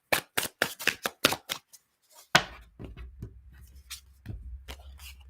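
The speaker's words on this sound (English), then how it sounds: "One more shuffle." Tarot cards shuffled close up in a rapid run of crisp riffling slaps, then a louder card flick and a few softer slides and taps over a low hum, with no talk.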